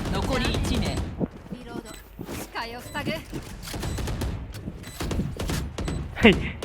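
Gunfire in Valorant, several sharp shots and bursts heard under and between someone talking, fairly close and loud.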